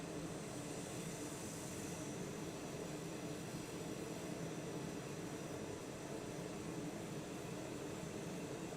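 A TBM 930 turboprop in Microsoft Flight Simulator holds a steady, even engine roar at Linden Airport, New Jersey, a constant broadband drone heard from outside the plane with no talk over it.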